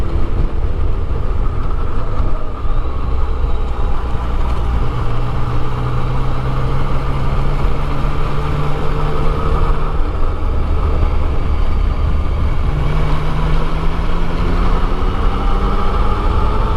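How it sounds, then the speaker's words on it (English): A Ducati motorcycle rides along a winding mountain road in the Vosges, its loud, steady engine drone rising and falling in pitch over continuous wind rush, with no voices. "coming out on a Ducati."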